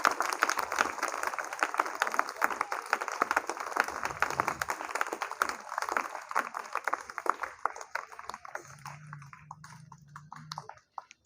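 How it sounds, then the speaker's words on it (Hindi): An audience of students at a school training program claps loudly and steadily, a dense crowd applause that thins out toward the end while a voice speaks faintly underneath. "चल के लिए जोरदार ताली बजाइए"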